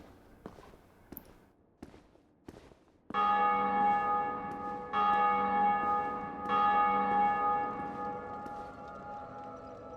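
A church bell in Dark Souls rings out loud and sustained, its tone swelling in repeated strokes after a few scattered footsteps and knocks at the start.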